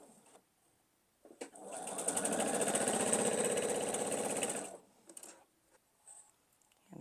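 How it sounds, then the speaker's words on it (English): A sewing machine stitches quilt diamond pieces together in one steady burst of rapid needle chatter lasting about three seconds, with quiet handling clicks before and after. "I'm going to continue the process of sewing these diamonds together."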